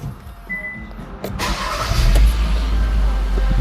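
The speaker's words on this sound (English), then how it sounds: "Should be good to fire it up." A Kia Sportage engine starts after a service: a brief cranking burst catches and settles into a loud, close, steady idle rumble.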